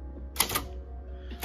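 Shift and the one key pressed on a Royal Mercury / Silver Seiko manual typewriter: two quick mechanical clacks close together, then a single sharper clack a moment later in a quiet room.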